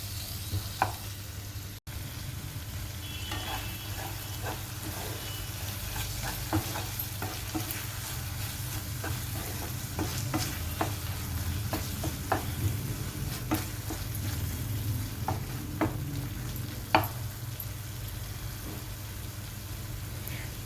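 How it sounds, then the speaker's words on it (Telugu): Chopped tomato pieces cook in a pan for tomato rice. A continuous close sizzle and bubbling runs throughout, broken by scattered clicks and scrapes from a spoon, with a low steady hum underneath. "ఈ టమాటా ముక్కల్ని మూత పెట్టి బాగా మగ్గనివ్వాలి."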